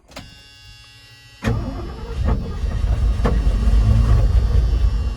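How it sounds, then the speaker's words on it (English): Ford F-100 engine, left sitting for over twenty years and with its timing off, cranks over. A faint click comes first, then a sudden loud churning rumble with uneven pulses that hitches partway through. "When it's cranking over, you can hear just there, it kind of got like stuck at some point"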